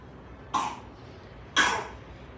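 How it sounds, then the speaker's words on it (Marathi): A child coughs twice, about a second apart, each a short burst over quiet indoor room tone with no talk. "अजूनही थोडासा खोकतोय"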